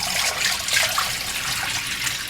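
Rice is swished and rinsed in water for a second wash, a soft, continuous splashing and trickling close by with no voices.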